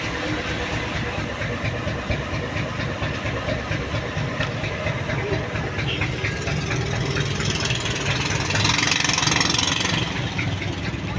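A steady, rumbling boat engine idles continuously at close range, a low droning chug that swells slightly near the end, with no talking.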